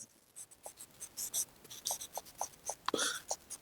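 Chalk or pen writing on a board during a class 12 accounts lesson, a run of short scratchy strokes in quick irregular bursts, fairly faint and alone.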